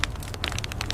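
Shredded plastic flakes raining down inside a recycling factory, a loud, dense patter of quick crackling impacts over a low machinery rumble, close and continuous.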